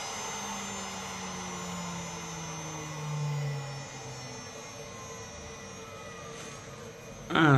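A CNC router spindle spins at 12,000 RPM with a steady, loud whine held close up, a brief swell partway through and a sharp knock at the end.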